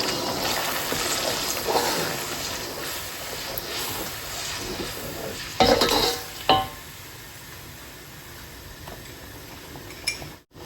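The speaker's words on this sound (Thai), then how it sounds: "แล้วก็คนไปเรื่อยๆนะคะ" Thai chili paste with pork cracklings is stirred in a pan, a soft continuous scraping and faint sizzle with a few sharper utensil knocks against the pan, close and quiet.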